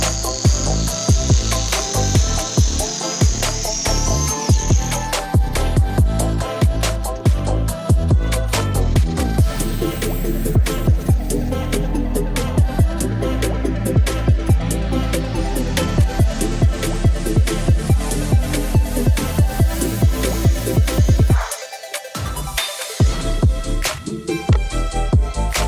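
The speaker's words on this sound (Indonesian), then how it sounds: "selanjutnya saya belah bagian gagang kampak supaya gergaji yang tadi bisa masuk ke dalam gagang kampak ini" A hand saw cuts into a wooden axe handle to split it, with a continuous, close, rasping scrape of rapid strokes and a high faint whine at the start, broken by brief pauses near the end.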